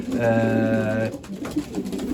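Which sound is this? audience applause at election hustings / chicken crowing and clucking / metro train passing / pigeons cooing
pigeons cooing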